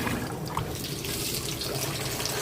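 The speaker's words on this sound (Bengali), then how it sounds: "আমি চালগুলো ধুয়ে নিই।" Rice being rinsed in a kitchen sink under a running tap, a steady close wash of flowing water that continues alone without pause.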